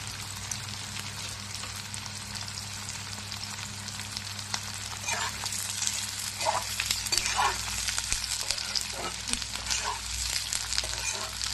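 Chopped capsicum sizzles in hot oil in a pan for chilli paneer, a steady crackling fry with occasional stirring scrapes, close and moderately quiet.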